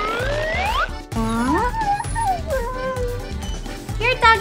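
A Husky dog whimpers and yips in high, wavering cries, close by, while people's voices and background noise run underneath.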